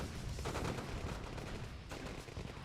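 Sustained gunfire peppering an MCV in the Mental Omega strategy game, a steady crackle of rapid shots over low rumbling battle noise, moderately loud without pauses and no voices.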